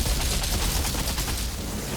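Automatic weapon firing incendiary rounds in a video game, a dense rapid burst of shots merging into continuous loud crackling fire for two seconds.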